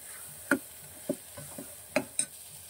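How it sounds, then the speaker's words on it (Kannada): Sambar powder frying in a pan for a prawn and dal curry, a faint low sizzle under a handful of distinct spatula taps and scrapes spaced irregularly against the pan, no voices. "ಇದನ್ನು ಕೂಡ ಸ್ವಲ್ಪ ಚೆನ್ನಾಗಿ ಫ್ರೈ ಮಾಡ್ಕೊಳ್ಳೋ."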